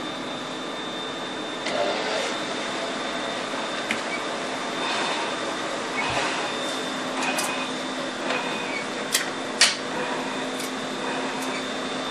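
A CX1000 label printer hand-fed a label, giving a steady mechanical hum with faint whirring and a few brief clicks and ticks at moderate level, no talking.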